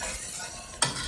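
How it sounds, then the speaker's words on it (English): Food frying in a pan with Dijon mustard just added, a soft steady sizzle broken near the end by one quick scrape of stirring. "And we're going to stir that in"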